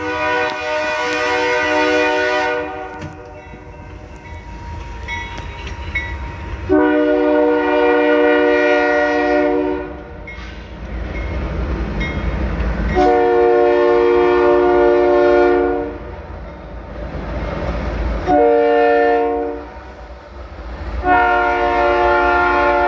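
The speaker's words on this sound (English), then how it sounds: "when a train hits its freight train horn, it's loud" A freight train's horn sounds loudly in several long, sustained blasts over the steady rumble of the passing train, heard from a backyard about 60 to 100 yards from the track at night.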